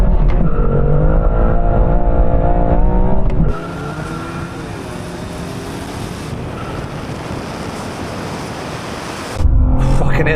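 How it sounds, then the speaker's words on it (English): A BMW M2 CS launching hard, engine roaring under wheelspin, then a sudden drop in pitch as it shifts from first to second, a loud steady rush, and the engine note returning at the end. "I can hear that M2 CS just spinning up its wheels, changing from first to second."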